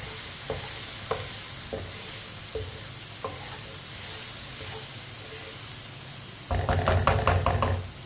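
Ground red chili, turmeric and coriander powder being stirred together, a few soft spoon clinks and taps over faint background hiss, then a louder burst of rattling and scraping near the end, with no voices.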